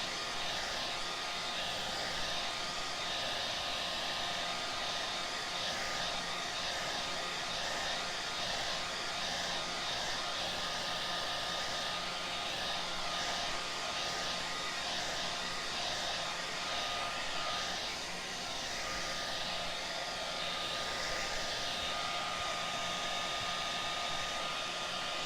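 A hot air blower roars steadily and loudly without a break, drying a piece of upcycled scrap wood, with no talking over it.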